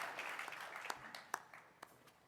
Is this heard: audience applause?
yes